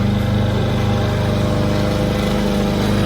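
A neighbour's petrol lawn mower runs steadily on a UK allotment, its engine drone loud, close and unbroken, with no talking.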